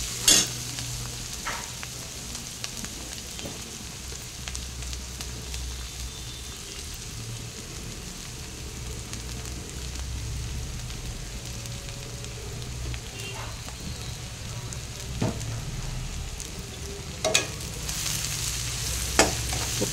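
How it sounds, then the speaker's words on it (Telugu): Onions and spices sizzling in oil in a pan just after salt goes in, a steady loud frying hiss with crackles running throughout, a few sharp clinks and a faint voice now and then. "ఉప్పు వేస్తే తొందరగా వేగుతుందండి."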